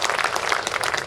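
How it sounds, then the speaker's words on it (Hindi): An audience at an international mushaira and kavi sammelan gives brisk, dense applause, a close, continuous patter of many hands clapping with no talking. "एक बार जोरदार तालियां बजा दीजिए"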